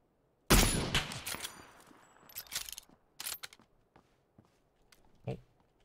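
PUBG gunfire: a loud close shot followed by a scattered volley of quicker shots that fade into sparse distant pops and faint footsteps, all without voices.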